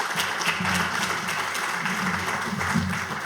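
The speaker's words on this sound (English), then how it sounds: "Please, a great applause for the panelists." Audience applause for the panelists at an Africa Industrialization Day conference, continuous moderate clapping from a seated crowd with a low murmur beneath it.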